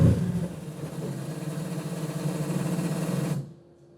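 An R35 car's engine runs on its first start after a big rewiring, holding a steady, even idle drone for about three and a half seconds before cutting off abruptly into near silence.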